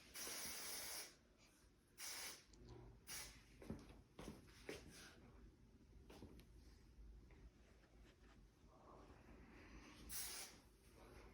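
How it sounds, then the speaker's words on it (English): Several short hissing bursts of an aerosol spray, quiet and close, with soft handling noises between them. "And then I'm going to spray all my waves."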